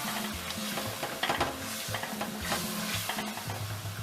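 Chopped tomato for a goat stew cooks in a pot, giving a quiet sizzle under repeated scraping stirs and light knocks of a spoon against the pot.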